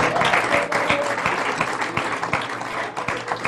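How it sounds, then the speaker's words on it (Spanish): A church congregation claps in praise during a sermon, a fairly loud, steady patter of many hands with a few sharper individual claps standing out. "Den un aplauso al Señor, aquí están apoyando."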